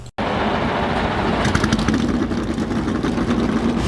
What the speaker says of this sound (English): Drivers, start your engines!